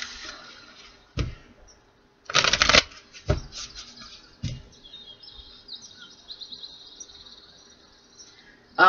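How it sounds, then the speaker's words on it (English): Tarot cards are riffled and shuffled in a few quick bursts, one longer ruffle in the middle, with faint bird chirps in the quiet background. "One more shuffle for Taurus"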